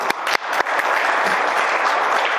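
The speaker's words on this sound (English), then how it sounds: "You can clap." People at a community meeting opposing a casino start with a few sharp individual claps that merge into a brief, steady burst of close applause.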